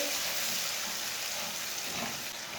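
Tomatoes cooking in a pan while making chicken pota: a steady, close, soft sizzle and frying hiss runs throughout with no talk.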